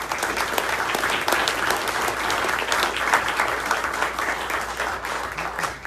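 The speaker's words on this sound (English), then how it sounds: "Let's have a big round of applause for our panel" An audience gives a round of applause for a discussion panel at an ICT event, dense continuous clapping filling the room at an even level for several seconds.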